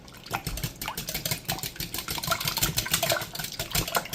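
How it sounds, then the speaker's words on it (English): Eggs being whisked for scrambled eggs, a quick irregular series of wet clicking and sloshing strokes, close and fairly loud, with no voices. "Whisk them eggs right up."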